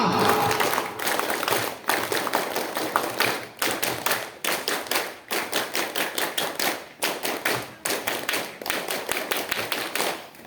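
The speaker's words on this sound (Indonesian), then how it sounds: "Tiga kali tepuk Pramuka." Rhythmic Pramuka scout clapping at an Indonesian scout anniversary ceremony, repeated bursts of claps separated by short pauses, loud and close, with a crowd clapping in unison.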